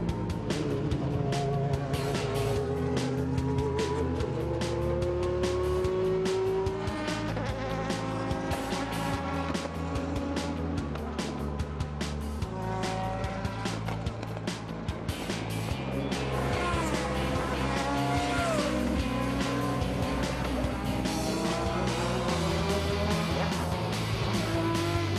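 Race cars drive around a track with a continuous high, buzzing engine drone that shifts pitch as they pass. Layered engine tones stay loud and unbroken throughout.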